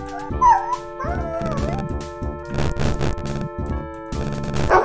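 Dogs yelping and howling as they are shot in a stealth shooter game, a string of sympathetic whimpering death cries over droning game music, loud and close.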